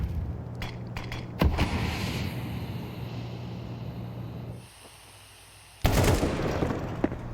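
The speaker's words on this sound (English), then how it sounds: "Brokey spots one out through underpass, the warning shot fired" Gunfire from a Counter-Strike 2 match at the StarLadder Budapest Major 2025 plays out as sharp shots and rapid bursts over steady in-game ambience, with a lull before a final loud volley.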